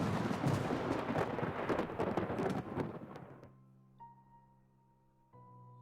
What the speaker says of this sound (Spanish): se escucha un relámpago quebrar el cielo